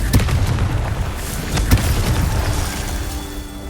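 Confringo spell blasts go off in Hogwarts Legacy, sharp booms and cracks punching through repeatedly amid a continuous rumbling game background, loud and close.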